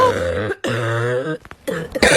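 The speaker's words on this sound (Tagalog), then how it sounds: "ang crunchy ng ubo mo ha, crispy" Two or three harsh, crackly coughs, close up, with brief gaps between the bursts. No talking.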